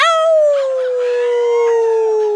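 A sustained, wavering howl at a live club concert at a music cafe and tiki lounge, an audience or performer howling like dogs, loud and close, one long falling tone with voices mixing in.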